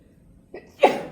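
A single sharp sneeze with a short intake just before it, close and fairly loud against a quiet background.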